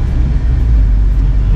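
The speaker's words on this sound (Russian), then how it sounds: "Машина завелась" A Volkswagen Golf 2 engine idling just after starting on a cold, wet, windy day, a steady low rumble heard close up with no talk.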